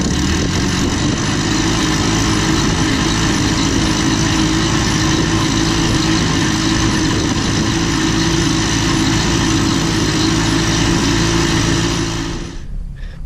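A landscape curbing machine extruding a concrete curb runs as a loud, constant engine drone with a dense mechanical rumble, holding steady for about twelve seconds before dropping off abruptly.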